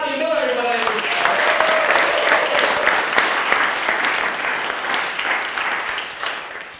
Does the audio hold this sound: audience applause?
yes